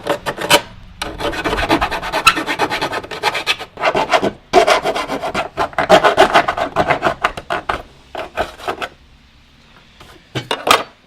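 Close, loud bursts of scraping and rasping as the plastic edge of a Jeep Wrangler JL snorkel is trimmed, in uneven strokes with short pauses between, no voices.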